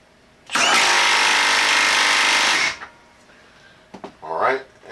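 A Milwaukee M12 3/8-inch stubby impact wrench running on mode 3 in a bench vise test lets out one loud burst of about two seconds, followed by quieter clicks and handling knocks.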